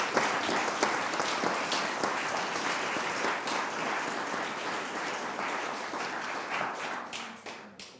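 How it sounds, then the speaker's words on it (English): A conference audience at the ECRA concluding session applauds the sponsors with sustained, full clapping from many hands, holding strong for several seconds before tapering off near the end. "An applause for them."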